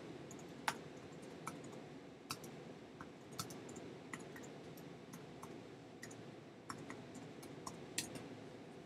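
Quiet typing on a computer keyboard during an office software demo, with soft irregular key clicks tapping along steadily at close range and no voices.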